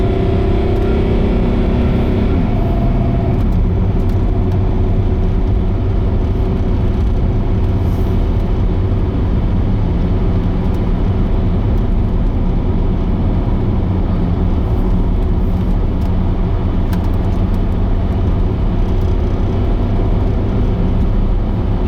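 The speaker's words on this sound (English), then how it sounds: "We'll be able to get onto the motorway and we'll have a bit of a blast down the motorway" A Range Rover L322 cruises along a motorway, its engine and road roar forming a loud, continuous drone with steady tyre and wind noise and a slight shift in pitch early on; nobody speaks.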